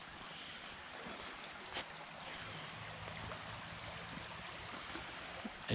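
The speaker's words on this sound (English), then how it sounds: "It's the river." A river flows beneath a disused railway bridge, giving a steady broadband rush of moving water that holds at an even level throughout, with a couple of brief knocks and no voices.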